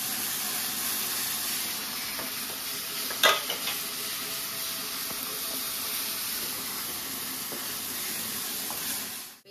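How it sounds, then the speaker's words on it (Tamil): Ginger garlic paste sautéing with mutton in a pan gives a steady broadband sizzle with soft stirring scrapes, one sharper clink near the middle, no voices. "சேர்த்து கொஞ்சம் நான் வதக்கிட்டோம்."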